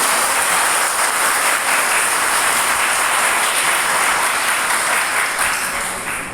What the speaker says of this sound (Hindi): मैं चाहता हूं कि आप लोग खूब जोर से ताली बजाएं, सब लोग मिलकर